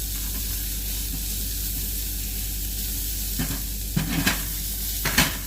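Mushrooms, garlic and carrots sizzle steadily in a hot pan, a loud continuous frying hiss broken by a few scraping stirs near the end.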